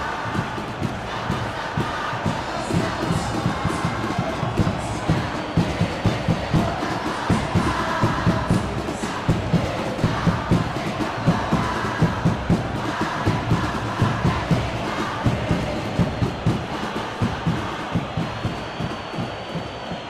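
A stadium crowd at a football match in the video game PES 2025 keeps up a steady roar of cheering and chanting for the whole stretch, with rhythmic clapping or drumming pulsing through it.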